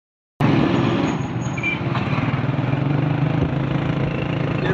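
A motorbike engine hums steadily while riding along a road, starting abruptly and then droning on continuously with a light pulsing texture and wind noise, close by and with no one talking.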